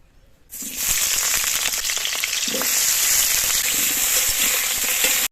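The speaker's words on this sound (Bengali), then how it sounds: "আমি মটন কষার মধ্যে আজকে আলু দেব, আলুগুলো ভেজে নেব।" Potato pieces fry in mustard oil in a wok for a mutton kosha, a loud, steady, close sizzle that bursts in after a brief quiet start and crackles on without pause.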